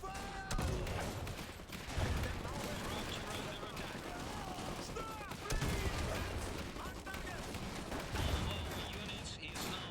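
Dense, continuous battle gunfire from the real-time strategy game Iron Harvest, with bursts of rifle and machine-gun fire and heavier booms swelling several times over a steady din, with a voice talking through it.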